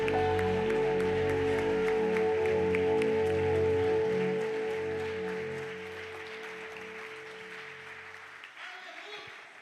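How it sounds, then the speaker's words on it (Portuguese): A congregation at a Brazilian family church service claps steadily, a dense wash of applause blended with sustained worship music that gradually fades toward the end. "aplauda ao Senhor Jesus Cristo"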